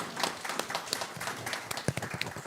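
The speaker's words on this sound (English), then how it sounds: "Big round of applause for them." An audience at an event bursts into applause, with many hands clapping in a dense, moderately close patter that swells and thins over a few seconds.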